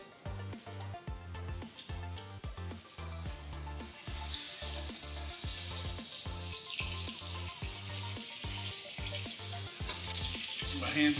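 Thick burger patties stuffed in the middle sizzle and fry on a stovetop burner turned up to medium-high, a steady close hiss with a strong, pulsing low rumble running underneath throughout.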